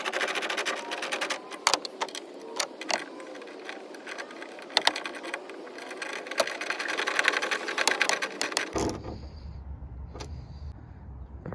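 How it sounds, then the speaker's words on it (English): An 8mm ratchet tightens bolts while a reverse light is reinstalled on a Ford F150, giving a dense run of close, rapid clicking ratchet strokes for most of the time, then a quieter stretch with a low hum and a single sharp tick. "we'll go ahead and install the bolts back"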